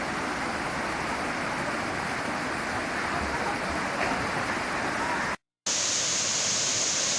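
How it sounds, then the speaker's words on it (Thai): Waterfall at Nakhon Sawan, Thailand, a broad tiered cascade roaring as a loud, constant rush of water close by, steady throughout apart from a momentary cut, with no talking audible. "นี่ไงครับน้ำตกของนครสวรรค์มีนะ"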